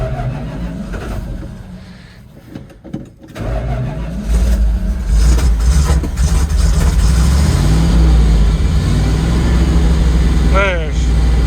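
An old vehicle's engine turns over, falters, then catches and settles into a loud, steady idle close by. A short squeal sounds near the end.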